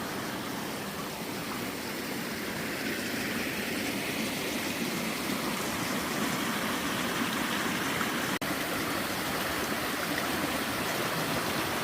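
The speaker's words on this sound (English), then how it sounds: "This is creek number 3." Creek water flowing steadily beside a forest trail near Bottleneck Lake, a continuous close rushing wash with no voices.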